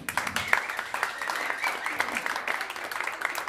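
Audience applauding after a band performance, a dense steady wash of many hands clapping at moderate volume throughout.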